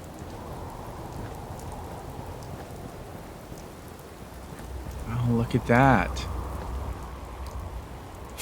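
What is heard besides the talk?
rain in the video game Fallout 4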